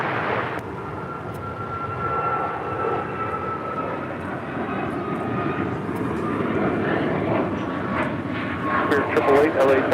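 An airliner's engines roar during its takeoff from runway 25 right at LAX, a broad, steady rumble that swells slightly over ten seconds. Radio voices talk throughout.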